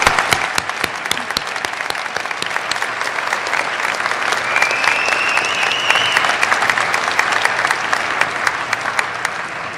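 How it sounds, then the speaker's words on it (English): A graduation crowd at Concordia claps to thank their professors during a valedictorian address. The applause is dense and sustained for ten seconds, with crisp individual claps standing out near the front and a faint whistle rising partway through. "Let's join in thanking them with a big round of applause."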